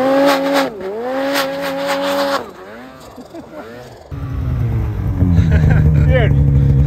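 A snowmobile engine revs while riding through deep snow in the Idaho backcountry in winter, a loud close whine with rising and falling pitch and then a rougher roar, as riders shout and talk over it.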